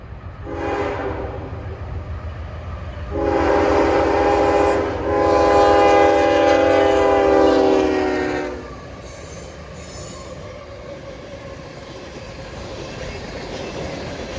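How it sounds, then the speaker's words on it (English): A Norfolk Southern freight train powered by Union Pacific and KCS locomotives passes at Meridian, Mississippi, sounding a short horn blast and then a long, loud horn over steady rumbling wheels, fading to the rolling clatter of the cars. "NS 345 comes through with an interesting consist with Union Pacific and a KCS Great Ghost for power"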